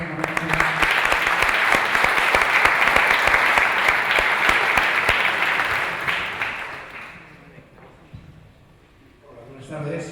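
An audience applauds loudly and steadily for a speaker at an education conference on educational freedom; the clapping fades out, leaving near silence, then a voice begins speaking.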